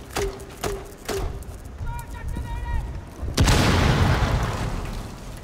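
A breach charge in Rainbow Six Siege detonates in a sudden loud blast about midway through, its broad roar and debris rumble trailing off, preceded by sharp clicks and beeps.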